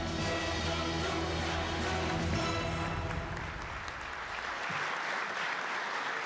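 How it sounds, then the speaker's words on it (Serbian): Audience applause at the Karić Brothers Award ceremony in 2023: a large crowd claps steadily and loudly throughout, thinning slightly near the end, with no speech over it. "Dame i gospodo, još jednom pozdravimo aplauzom profesorku doktorku Jasminu Vujić"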